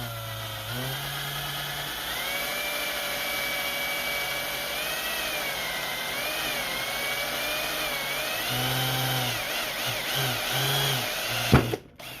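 An electric drill boring a hole in the center of a plastic bottle cap, its steady whining motor running continuously at close range, with short bursts and a sharp clack near the end.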